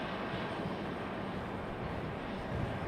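A JetBlue airliner at Raleigh-Durham International Airport gives a steady, broadband engine roar that holds evenly at moderate distance for about three seconds, with no voices.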